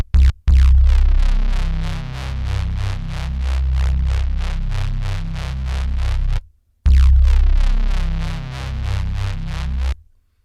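A dirty neuro drum and bass synth patch from u-he Zebra 2, built from one oscillator with shaping: loud, gritty, rhythmically pulsing bass phrases in two bursts, separated by a brief gap, with no voice.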